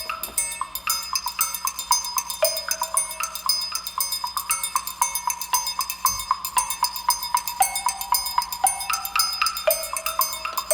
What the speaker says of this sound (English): the wood blocks are from a virtual instrument